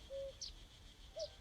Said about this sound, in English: A cuckoo.